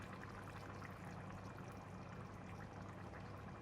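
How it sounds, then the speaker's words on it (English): Faint steady pour of coconut milk into a tapioca leaves and pork belly curry, a continuous soft liquid stream with no talk. "I am adding 1 tablespoon of fish sauce, 1 tablespoon of sugar, and 100 ml of coconut milk"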